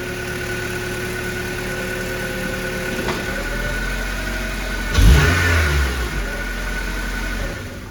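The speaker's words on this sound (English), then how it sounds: "her RSX has a exhaust leak, and here's what it sounds like" An Acura RSX engine with an exhaust leak at the manifold idles with a steady drone, then briefly revs up midway, the ticking, raspy exhaust note rising before settling back to idle.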